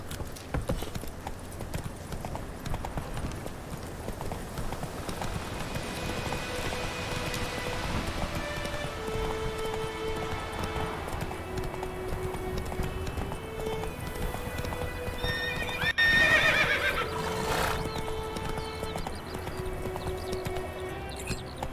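Horse hooves clip-clopping at a steady gait in The Witcher 3, a continuous rhythmic beat under light rain and ambient game music, with a brief brighter burst near the middle that could be a neigh.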